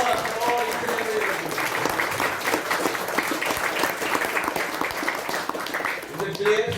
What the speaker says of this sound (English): let's give a round of applause for all each and every